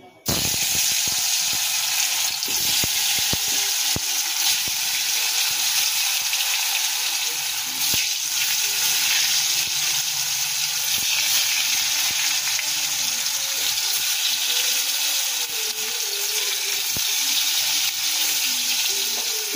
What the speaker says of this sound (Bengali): তেলটা গরম হয়ে গেছে, এবার পনিরগুলোকে ছেড়ে দেব।